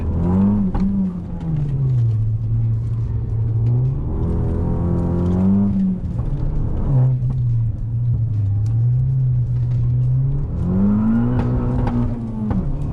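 An Abarth sports car engine revs up and down repeatedly, a loud rumbling roar rising and falling in pitch, close by with no voices.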